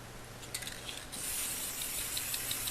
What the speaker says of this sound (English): I'm going to spray a little bit of black.